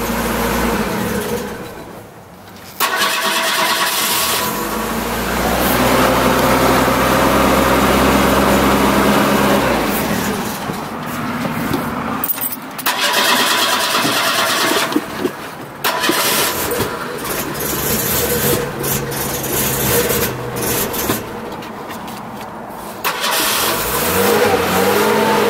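A Pontiac Trans Am engine cranks, catches and revs hard, holding a loud, rough roar with surging throttle blips and brief dips before climbing again, close up in a mechanical shop.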